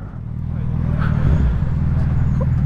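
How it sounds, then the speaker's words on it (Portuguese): A black Suzuki B-King 1340cc motorcycle is started and settles into a low, rumbling idle that grows slightly louder and stays steady, close by, with faint street noise around it. "dá mais um liga aí na moto."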